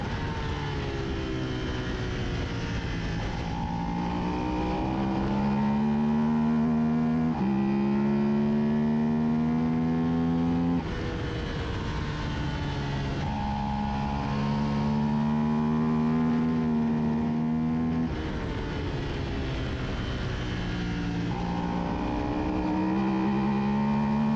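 A Suzuki SV 650 race bike at New Jersey Motorsports Park, recorded on board: the engine drones loudly and close, rising in pitch through each gear, then dropping sharply at every shift and braking, for around six acceleration runs.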